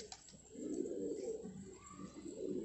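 Afghani fighter pigeons coo softly nearby in short, low, throaty bursts, faint and close, with no talking.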